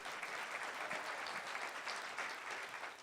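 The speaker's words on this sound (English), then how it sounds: "How about a round of applause for David Moss, everybody" Audience applause at a casino comedy show, a steady, even patter of many hands clapping together, heard fairly distant and faint, with no talking.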